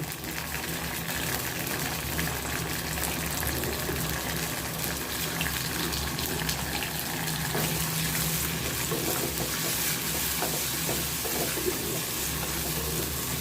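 Squeezed tomatoes sautéing in a pan for a spring onion kulambu, a steady, dense sizzle and hiss that holds evenly close up for the whole stretch, with no talk.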